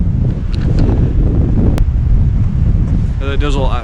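Sea waves crash against a rocky coastline on the Isle of Skye near Neist Point, heard as a loud, constant roar buffeted by heavy wind on the microphone, with a brief voice near the end.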